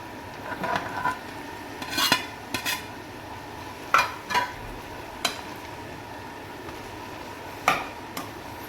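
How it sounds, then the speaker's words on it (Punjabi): Boiled, hand-mashed potatoes being mixed into a hot tempering in a pan, with a spoon clanking and scraping against the metal in irregular knocks over a faint steady sizzle, close by and without talk. "ਹੁਣ ਆਪਾਂ ਚੰਗੀ ਤਰ੍ਹਾਂ ਮਿਕਸ ਕਰ ਦਾਂਗੇ ਆਲੂ ਨੂੰ ਆਪਾਂ ਤੜਕੇ ਦੇ ਵਿੱਚ"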